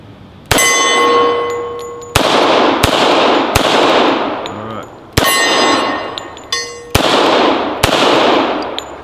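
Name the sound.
M1911 pistol gunshots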